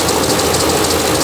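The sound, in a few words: 6.4L HEMI engine idling rough, running unbalanced on one cylinder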